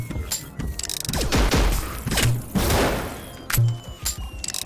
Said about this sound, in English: Got to reload that thing.